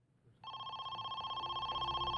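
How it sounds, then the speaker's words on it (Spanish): A telephone rings in a dramatized kidnapping case, the steady electronic trill starting abruptly after a quiet moment and continuing evenly and fairly loud. "A las 10 de la mañana, más de 2 horas después de secuestrar a Amy, el teléfono al fin sonó"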